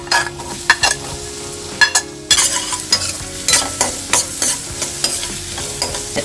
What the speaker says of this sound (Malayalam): ഒരു സവാള പൊടിയായിട്ട് അരിഞ്ഞത് ഇട്ട് കൊടുക്കാം.